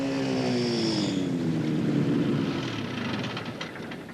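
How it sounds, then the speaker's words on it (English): A small microlight aircraft with a Dacron sail and tubing frame drones past overhead, its propeller engine buzzing steadily and its pitch sliding downward as it passes and fades; no voices. "ousands of hobbyists like Michael Robertson, pocket-sized microlights seem to have answered the dream of domesticating the aeroplane."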